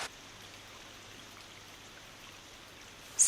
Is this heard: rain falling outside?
yes